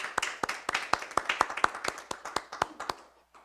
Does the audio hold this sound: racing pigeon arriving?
no